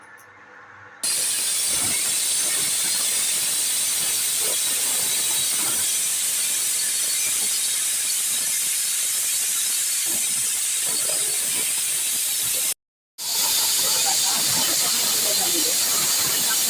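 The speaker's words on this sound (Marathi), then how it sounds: "शिटी लावूया आता जवळजवळ आपल्याला दहा शिट्या घ्यायच्या आहेत" A pressure cooker holding paya soup vents steam in a loud, continuous rushing hiss that fills almost the whole stretch, cutting off briefly once before surging back.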